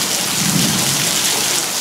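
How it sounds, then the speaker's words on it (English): Heavy rain pours down steadily in a backyard in Moore, Oklahoma during a November thunderstorm, with a low rumble of thunder rolling beneath the dense, hissing downpour. "And a little bit of thunder right there."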